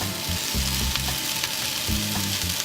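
Potatoes tossed into a pan with vegetables while making a steak, egg and cheese burrito sizzle steadily, a close, continuous frying hiss over a low tonal hum.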